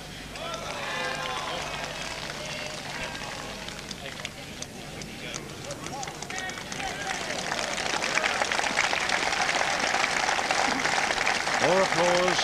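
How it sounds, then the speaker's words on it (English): An audience keeps up steady, broad applause at the 1988 World Bowls Championship men's pairs lawn bowls final between New Zealand and England, heard from a distance beneath a commentator who talks over it throughout. "More applause, deserved applause for Rowan Brassey with now holding two"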